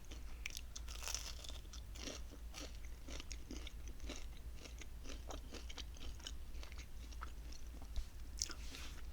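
Mozzarella sticks bitten and chewed up close, a steady run of crisp crunches and soft mastication sounds repeating through the whole stretch, with no talking.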